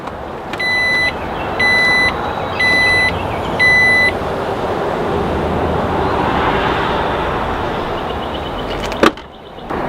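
A series of four electronic beeps sounds in an even rhythm over a steady mechanical hum as a 2018 Jeep Grand Cherokee Trackhawk's cargo area lowers by button, followed by a brief click near the end.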